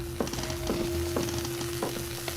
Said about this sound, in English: Broken exposed wire. Touching this would be very bad.